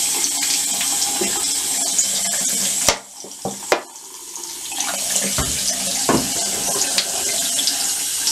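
A tap runs steadily into a sink while hands are rubbed with soap, the water stream cutting out briefly partway through before resuming, with splashes and small knocks close by.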